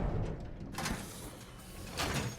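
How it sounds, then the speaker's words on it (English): A sliding door and elevator rise in the Fort Roy video game, heard as a soft mechanical whoosh with a low rumble. A brighter swish comes near the start and another near the end. "bring the door up, bring the elevator up."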